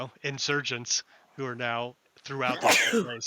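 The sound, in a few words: sneeze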